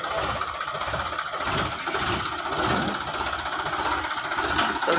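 A Sonalika DI 50 Rx tractor engine runs steadily at idle close by with a rough, rhythmic diesel knock and clatter, loud and continuous with no talking.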